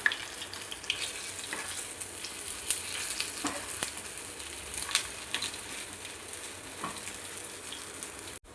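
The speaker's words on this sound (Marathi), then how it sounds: "आता आलटून पलटून दोन्ही बाजूने हे छान तळले गेलेत" Green pea snack pieces bubbling in hot oil, a steady crackling sizzle broken by a few soft scrapes as they are turned over, with no one talking.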